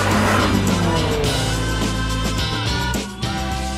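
Classic cars drift through a shift-and-drift zone at the Silverstone Classic 2019, tires squealing loudly and continuously over close, revving engines, with the sound easing slightly near the end.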